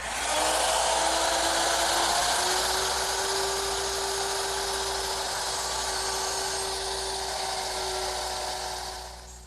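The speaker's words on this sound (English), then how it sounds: "I'll just mortise each of the legs" An overhead router with a 1/4-inch bit cuts mortises into wooden table legs, giving a loud, close, high-pitched whine. It spins up, holds steady while cutting, then winds down at the end, with no voices.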